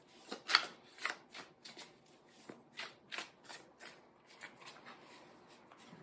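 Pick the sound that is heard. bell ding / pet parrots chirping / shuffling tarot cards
shuffling tarot cards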